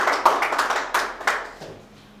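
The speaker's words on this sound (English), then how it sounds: "please give him a huge round of applause" A few people clap in a small classroom audience at a debate session, a short burst of sharp, uneven hand claps close by that quickly thins out and fades to quiet.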